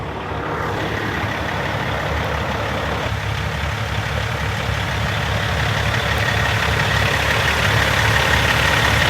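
A Peterbilt truck idles after its first start in over a month. The heavy diesel holds a loud, steady, close rumble for the whole stretch, with no speech.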